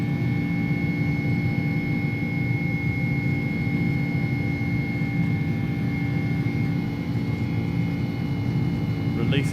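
Steady, droning roar of Airbus A300 engines at takeoff thrust in X-Plane 11, a continuous broadband rumble with faint tonal whine that holds level throughout, with no talking over it.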